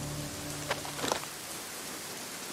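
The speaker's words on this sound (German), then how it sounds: "Es regnet wieder." Rain pours steadily in the video game Ghost Recon Breakpoint, a constant hiss of falling water with a few brief louder splashes or rumbles partway through.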